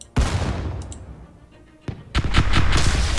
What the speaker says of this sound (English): So we've got the flak guns at least opening up to protect us from the missiles.